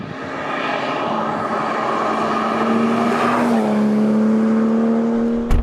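A Porsche 991.1 GT3 sports car with a flat-six engine drives past, its loud, high-revving engine note rising steadily and then shifting pitch as it continues, close and with no speech.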